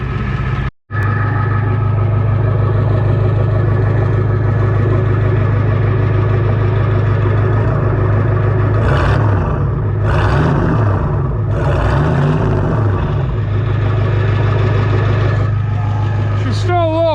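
Ford F350 pickup with a 7.3 IDI diesel engine and 8-inch exhaust stacks idling cold while warming up, a loud, steady low rumble throughout, with someone talking over it partway through.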